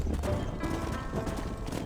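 A horse's hooves clip-clop on the ground in the Red Dead Redemption video game, giving a steady, close rhythm of muffled beats over a continuous background rumble.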